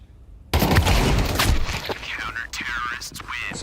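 Gunfire from a Counter-Strike esports match crackles in a loud burst of rapid shots, then continues in sharper scattered bursts while a caster talks over it.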